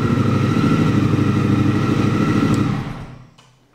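A Triumph 1200 motorcycle, a Scrambler 1200 XC or Speed Twin 1200, runs with a loud, close, steady engine rumble that then cuts off and fades to near silence.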